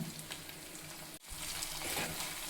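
Potatoes and coconut fry in a pan with a quiet, even sizzle that dips briefly for a moment mid-way, then carries on unchanged.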